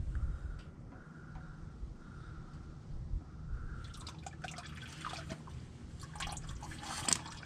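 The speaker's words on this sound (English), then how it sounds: "this will start leaking oil down around it" Motor oil drips and trickles from a loosened oil filter on a 6.4L HEMI engine, a faint liquid patter that becomes a busier spattering dribble toward the end.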